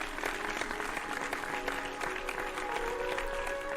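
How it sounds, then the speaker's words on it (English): Warm applause from a conference audience at the end of a student's research presentation in a video game, steady dense clapping that fills the whole stretch with no voices over it. "the student goes back to his seat to a warm round of applause"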